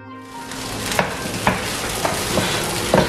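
Kothu roti sizzles steadily on a griddle pan while a utensil stirs and scrapes through it, with soft rhythmic knocks about every half second over a continuous loud fry.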